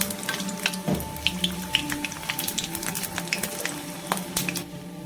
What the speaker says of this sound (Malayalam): പിന്നെ ഞാനത് ഫില്ല് ചെയ്തിട്ട് എണ്ണയിലിട്ടൊന്ന് വറുത്തെടുക്കുകയാണ് കേട്ടോ